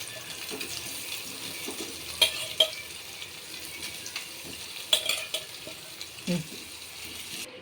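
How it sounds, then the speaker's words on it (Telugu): Paneer pieces frying in a pan until reddish, a soft steady sizzle with a few sharp clinks of a spatula against the metal, heard close up with no talking. "మనం ఈ విధంగా వేపుకోవాలండి ఇట్లా రెడ్ కలర్ వచ్చేంత వరకు ఎప్పుకుంటే"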